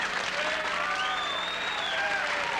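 Studio audience applause on a late-1970s television talk show set, continuous and even throughout, with faint tonal whistling or squeaks running over it.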